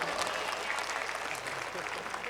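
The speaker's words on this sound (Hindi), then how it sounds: "एक बार इनके लिए तालियां बजा दीजिए।" Audience applause at an All India Mushaira poetry recital, a steady clapping crowd filling the short stretch at a moderate distance.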